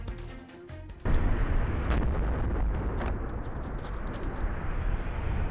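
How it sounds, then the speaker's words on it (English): Propane tanks exploding at a hospital construction site in Minot, North Dakota: a sudden heavy boom breaks the quiet, then a loud, sustained, roaring rumble carries on to the end. "That's just one of the booms heard across the Magic City earlier this evening after a series of propane tanks exploded at the site of Minot's Future Hospital."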